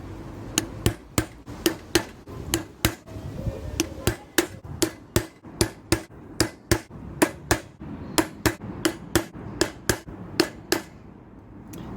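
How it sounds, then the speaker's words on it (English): A small centre punch is struck with a hammer against a metal front panel, giving about two dozen sharp, crisp taps at a fairly steady pace, close and isolated in a quiet room. "the first step is going to be to centre punch the holes with my little centre punch to make a little dent"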